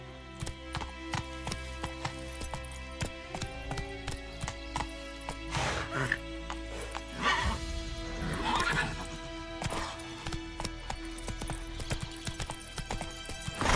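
Horse hooves clip-clop at a gallop for Roach, Geralt's horse in The Witcher 3, with whinnies and neighs rising midway over a steady music bed and ambient game sound.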